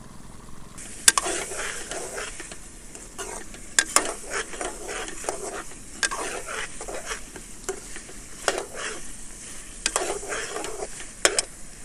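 Beef pieces frying in oil for a karahi, with a steady sizzle beneath repeated scraping and clinking of a spoon stirring the meat in the pot, close and fairly loud with no talking.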